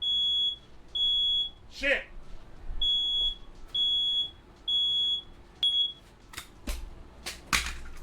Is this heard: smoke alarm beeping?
yes